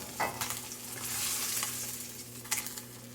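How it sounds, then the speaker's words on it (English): Fish for a Bengali potato and fish curry sizzles steadily in hot oil, a close, continuous crackle with occasional louder pops and stirring scrapes, and no talk. "So as you can see, my fish is nicely fried."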